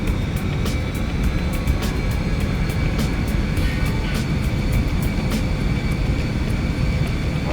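Within X-Plane 11, an airliner rolls down a bumpy runway with a constant loud engine roar and wheel rumble, broken by regular small thumps and jolts from the uneven surface.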